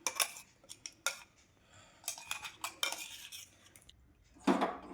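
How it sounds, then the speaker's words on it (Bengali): Ground green pea paste for koraishutir kochuri being scraped out of a mixer jar into a bowl with a spoon, a run of sharp metallic scrapes and clinks in irregular bursts, close and clear with no talk. "যে আমার বাটা হয়ে গেছে কড়াইশুঁটিটা, আমি একটা বাটিতে ঢেলে নিচ্ছি"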